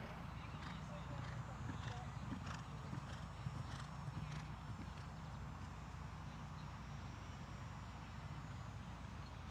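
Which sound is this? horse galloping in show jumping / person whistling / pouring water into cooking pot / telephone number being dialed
horse galloping in show jumping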